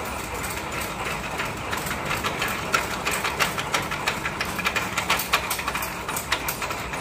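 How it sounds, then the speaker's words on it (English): An automatic sugarcane peeler strips soft red sugarcane, its motor running steadily while rapid uneven clattering bursts build up as the cane feeds through, close by and fairly loud. "This peels the cane very fast."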